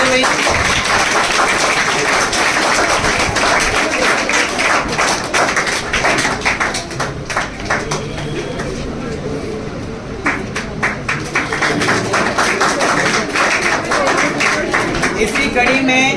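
Loud audience clapping at an honour ceremony for Agniveer army recruits, sustained rhythmic applause that dips briefly in the middle before picking back up, with a voice heard over it at times.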